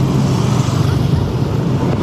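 A car engine rumbles steadily close by as it moves through a crowded agro-industrial fair in Naga City, with a busy crowd murmur around it.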